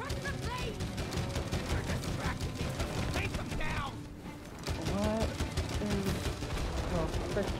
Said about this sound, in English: the squirrels have like their own cannon set up